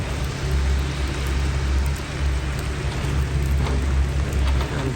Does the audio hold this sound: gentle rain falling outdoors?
yes